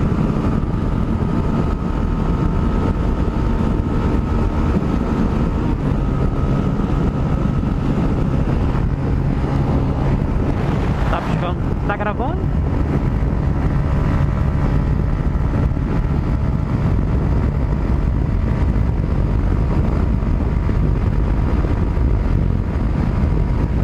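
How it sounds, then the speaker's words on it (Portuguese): A Honda CB Twister 250 motorcycle engine runs steadily while riding, a continuous low drone with wind buffeting the microphone throughout and a brief higher tonal sound midway. "Vamos amaciar o motorzinho da moto."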